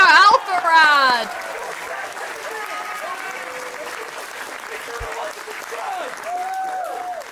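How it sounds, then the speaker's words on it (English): Applause at a livestreamed comedy-style show segment, opening with loud laughter and cheering that settles into a long, even patter of clapping at moderate volume, with voices murmuring underneath. "give a round of applause for me for making this happen"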